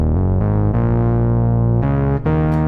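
A B.I.T. software synthesizer played through its built-in amplifier distortion, without sub oscillator, gives a sustained, buzzy, harmonically rich tone that shifts pitch in a few held notes, loud and alone with no talking.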